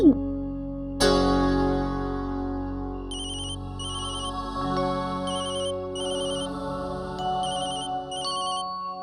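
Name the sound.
telephone ringing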